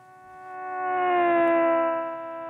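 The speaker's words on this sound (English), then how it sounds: "But the sound that you hear is basically the typical Doppler effect." A recorded car drives past, its engine tone swelling from faint to loud and fading slightly, with steady harmonic bands gliding downward in pitch as it passes, heard alone and fairly close.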